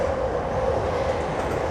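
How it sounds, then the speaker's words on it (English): A JR train passes close by in Shibuya, Tokyo, with a loud, continuous rumble and rolling rail noise filling the whole moment. "JR train passing by."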